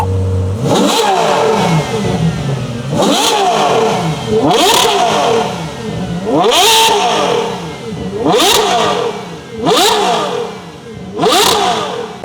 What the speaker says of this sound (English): The exhaust note, of course, on the V12 naturally aspirated 812 GTS with the IPE destroys almost any single car.